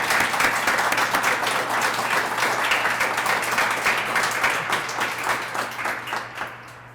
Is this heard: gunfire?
no